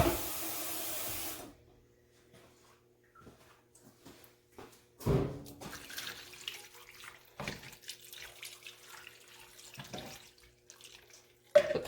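Hot water is poured around the sides of a pot roast in a roaster pan, starting with a brief rushing splash. Quieter trickles, clinks and handling noises follow in a still kitchen.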